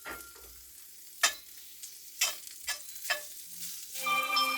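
Vegetables and fatty meat sautéing in a pan for a Southern low-carb cornbread stuffing, a soft close sizzle with a few distinct stirring scrapes and clanks, no talking.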